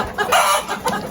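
Roosters on a Fayoumi chicken farm cluck close by in short, throaty bursts that overlap in quick succession.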